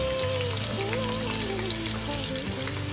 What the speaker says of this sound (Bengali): তেলটি গরম হয়ে গেলে পেঁয়াজ কুচিগুলো দিয়ে দিচ্ছি।